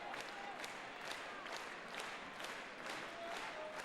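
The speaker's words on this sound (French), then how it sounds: "Anne-Sophie Matisse, une salve d'applaudissements pour nos deux championnes." A crowd applauds steadily throughout at a women's boxing event, dense clapping with a few faint whistles over a hall's murmur.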